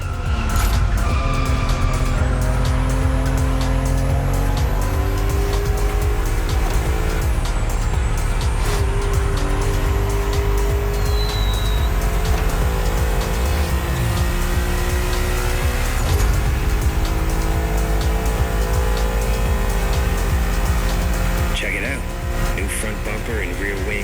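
A tuned Liberty Walk BMW driving in The Crew Motorfest, engine revving and shifting loudly throughout with rising and falling pitch and occasional tire squeal, under a voice speaking.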